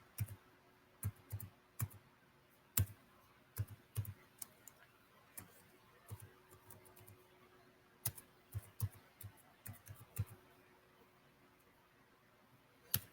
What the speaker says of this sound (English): I'll try and type in my email.